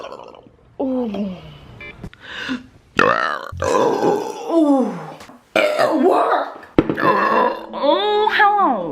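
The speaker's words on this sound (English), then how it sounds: "You always gotta eat those burps." Loud, throaty burps from a woman come one after another across the stretch, several deep and drawn out, mixed with bits of vocalizing and grunts between them.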